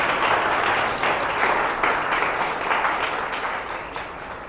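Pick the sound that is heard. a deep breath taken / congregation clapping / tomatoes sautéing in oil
congregation clapping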